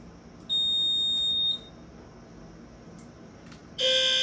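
A smoke-detector style fire alarm sounds during a building alarm test, two loud, steady electronic tones, one lasting about a second and another starting near the end, with a quieter gap between them.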